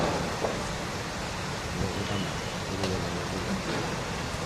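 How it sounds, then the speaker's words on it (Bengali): Heavy rain pours steadily in a windy downpour in Chennai, Tamil Nadu, a dense even hiss with faint gusts and no talk. "মুষলধারে বৃষ্টি হচ্ছে।"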